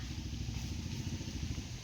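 A motorcycle engine idles with a low, even, rapid chug, faint and steady through a brief stretch with no talk.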